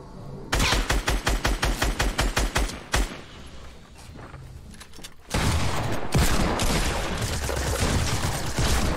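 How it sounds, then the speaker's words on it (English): Rapid bursts of video game gunfire crack out in a fast rhythmic string, fall quiet briefly, then give way to dense continuous shooting and clatter that stays loud to the end. "I heard gunshots behind me"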